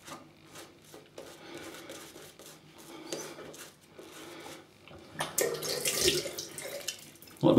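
Water runs from a tap into a sink while shaving cream is prepared, a steady splashing stream with small scrapes and clatters, close and moderately loud, swelling near the end.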